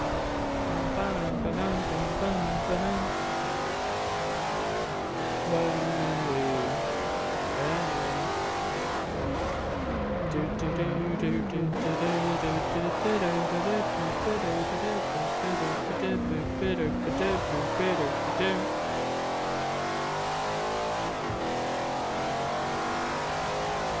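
A Porsche race car engine in the racing video game Forza Motorsport 4 revs and accelerates continuously, loud and close, with shifting engine pitch and occasional tire squeal, while a person talks over it.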